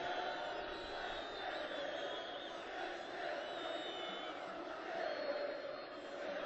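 A large crowd of Libyan people cheering and chanting enthusiastically at a rally, a dense continuous roar of many voices heard from some distance, loud and sustained with slight swells.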